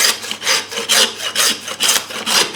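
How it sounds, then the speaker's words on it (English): Steady back-and-forth rasping of a hand saw cutting through a side of beef, about six rhythmic strokes, loud and close. "because I'm going to saw down here"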